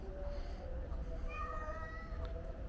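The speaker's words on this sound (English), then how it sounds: "Couple of museum kitties." Museum cats meowing, a couple of soft, drawn-out mews near the end over steady background murmur and faint voices.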